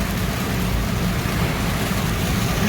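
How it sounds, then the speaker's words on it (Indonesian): Heavy morning rain pours down in the city of Palembang, a dense, steady hiss of rainfall with a low rumble underneath that stays loud and constant throughout, with no voices. "Hujan di pagi hari, suasana di Kota Palembang deras."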